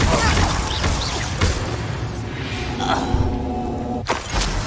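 A Glacius freezing spell strikes in Hogwarts Legacy amid a loud battle, with crunching, shattering impacts, whooshes and a sharp crack near the end over continuous rumbling game noise.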